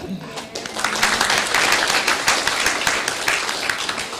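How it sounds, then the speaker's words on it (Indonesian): An audience at a vocational high school event claps continuously for the Attorney General, a dense, steady round of applause lasting several seconds with faint voices mixed in. "tepuk tanganlah dulu buat Pak Jaksagung ini ya"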